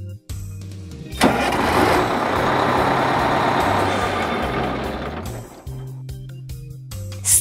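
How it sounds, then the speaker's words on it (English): A double-decker bus engine kicks in suddenly and runs with a loud, steady diesel rumble before dropping away. "Double-decker bus."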